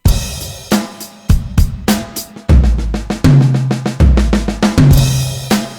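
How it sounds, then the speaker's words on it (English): A drum kit plays a short groove and then a fill, with crisp snare and hi-hat hits giving way to booming tom strokes, close and loud with no voices. "Play that as a drum groove, a drum groove and a fill."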